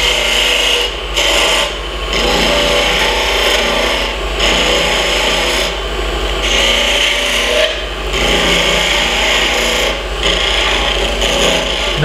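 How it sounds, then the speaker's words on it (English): A spindle gouge shapes bocote wood spinning on a lathe for a hairpin top, giving a loud, close rasping and scraping over the steady motor hum, broken by short pauses every second or two as the tool lifts. "I'm going to use my spindle gouge to make my little top here"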